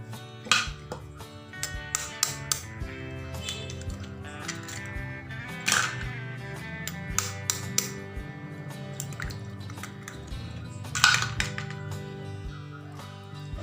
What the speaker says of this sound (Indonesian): Baik, telur kita pecahkan.